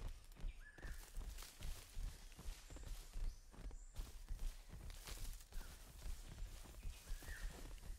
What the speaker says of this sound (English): I like how our footsteps are louder on a dirt path.